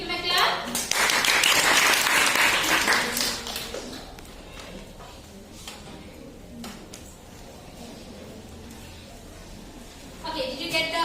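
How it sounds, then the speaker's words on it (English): Applause from a classroom of students bursts out loudly at the start, a dense patter of many hands lasting a few seconds before fading, and a teacher's voice follows over the quieter room. "Give him a clap."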